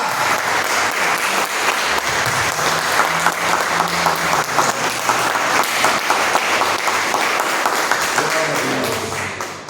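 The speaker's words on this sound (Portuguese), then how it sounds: "Agora eu te convido a dar a mais forte salva de palmas ao Senhor Jesus." A church congregation gives a long, vigorous round of applause, a thick continuous roar of clapping with some rhythmic hits and faint voices mixed underneath, fading slightly at the very end.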